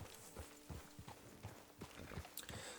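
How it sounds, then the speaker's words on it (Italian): Horse hooves clip-clop at a steady walking pace in the western video game Red Dead Online, a regular run of soft close knocks with a faint game-world ambience behind them. "Ok, parcheggiamo il cavallo."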